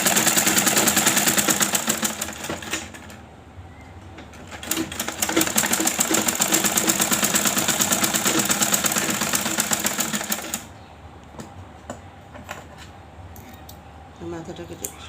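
Sewing machine stitching fabric, a rapid steady mechanical chatter running loud for about ten seconds with a brief pause, then stopping, leaving quiet room sound; someone speaks over it.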